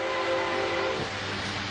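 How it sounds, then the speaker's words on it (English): Toy train circling its track on a television broadcast, a steady, dense rumbling rattle with a faint whistle-like tone running through, continuous and fairly close throughout. "they're showing a little train go around the tracks"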